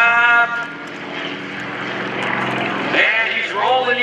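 An aerobatic propeller airplane rolls overhead at the 2014 Greenwood Lake Airshow, its engine droning loud and steady and then shifting pitch partway through, with crowd and announcer noise mixed into the background.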